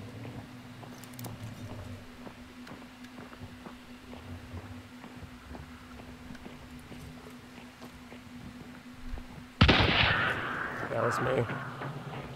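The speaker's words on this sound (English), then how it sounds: "they're shooting at me and they're shooting all the windows." Gunfire in the video game Hunt: Showdown: distant, sporadic shots crackle under footsteps, then a loud close burst of shooting and breaking glass erupts near the end, with someone talking.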